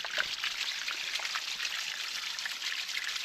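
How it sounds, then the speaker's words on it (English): Water trickles and percolates through freshly dug ground, a soft continuous bubbling dribble with small droplet ticks, close and steady. "there's water percolating at about that level right there"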